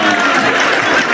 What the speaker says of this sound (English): The crowd howled, clapping wildly as she sat stunned